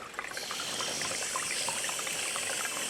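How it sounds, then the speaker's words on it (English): Water pours steadily from above onto a reusable pop-out seed tray outdoors in hot sun, a continuous close trickling and splashing that runs for about three seconds with no talking. "I'm going to give it a little bit more water."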